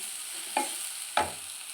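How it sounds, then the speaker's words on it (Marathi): Masala for egg masala curry sautéing in oil in a pan, a quiet steady sizzle with two distinct spoon scrapes about half a second apart, close and without talk. "हे पहा मसाला टाकून एक मिनिटभर आपल्याला परतून घ्यायचा आहे"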